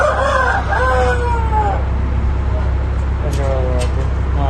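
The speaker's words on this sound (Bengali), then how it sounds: "এটা কিরকম অবস্থা দেখেন মুরগি।" Roosters crow on a livestock farm in Saudi Arabia, with one long wavering crow at the start and another a few seconds later, over a constant rumbling background.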